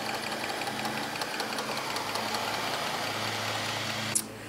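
An antique Essex hot air Stirling engine runs with a steady, even mechanical chugging and soft repetitive ticking close by, plus a faint hum, ending with one brief sharp click near the end.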